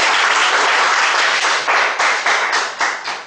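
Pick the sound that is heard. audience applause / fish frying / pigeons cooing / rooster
audience applause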